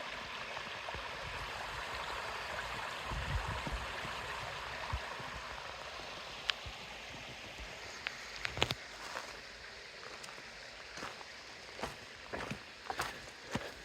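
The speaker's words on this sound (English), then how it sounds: "There's a pretty little stream here." A small stream flows steadily along a hiking trail, a soft continuous gurgle heard close by, with footsteps and a few crunching steps and knocks joining in the last several seconds.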